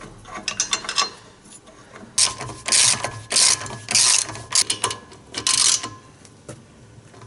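A ratchet wrench clicks in quick, uneven bursts while a bolt is tightened on a car wheel being refitted during a rear brake disc change. The mechanical rattling is close and fairly loud, with no talking.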